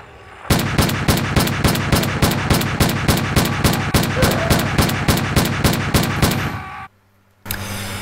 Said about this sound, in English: Hear that? Different gun sound.